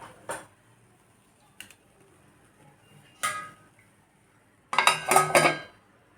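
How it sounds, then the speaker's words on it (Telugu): Metal lid set onto a pan of fluffy omelette, several sharp clinks and clatters, a couple of single knocks and then a rattling cluster of metallic contacts near the end, close and clear in a quiet kitchen. "మూత పెడదామండి."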